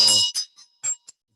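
A small ritual bell for Medicine Buddha practice rings with a bright, shimmering tone, and a few further lighter strikes follow, each decaying quickly in a quiet room.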